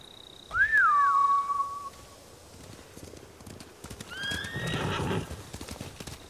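In the video game Ghost of Tsushima, a horse whinnies sharply and loudly, followed by hoofbeats clopping and a second fainter neigh over a soft background.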